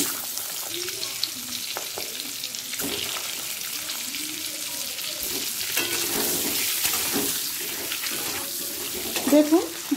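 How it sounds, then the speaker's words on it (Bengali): Boiled eggs, slit on the surface, fry in oil for egg curry with a steady, watery sizzle that swells toward the end, and a voice murmurs faintly underneath. "আমি আমার মতো করে হালকা করে ডিমগুলোকে ভেজে"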